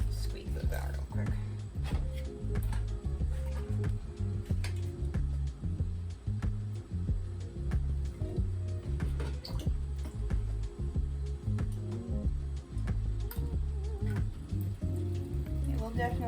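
Dye-soaked yarn braid being squeezed out by hand over a pot, with wet squishing and steady dripping of dye, close and continuous under a person talking.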